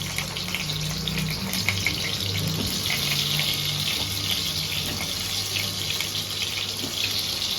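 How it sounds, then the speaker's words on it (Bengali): Potatoes going into hot oil for an aloo phoolkopi dish, giving a steady, close broadband hiss of frying with scattered crackles and spits throughout, no voices. "আমরা যখনই আলুটা দিচ্ছি, আলুতে বোধহয় জল ছিল, সেটা ছিটকে আসছে।"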